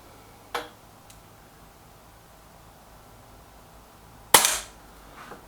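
Two shots from an Air Arms S510 Ultimate Sporter air rifle: a smaller crack early on, then a louder sharp report with a brief tail several seconds later, against steady faint background hiss.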